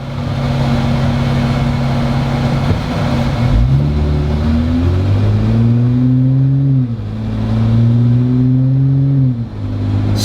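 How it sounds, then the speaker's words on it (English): A Jeep Wrangler JL fitted with an iDRIVE throttle controller revs and accelerates loudly up close, engine pitch rising and falling through several surges with no talking. "if I really try to accelerate, my Jeep kicks in and pushes off pretty good"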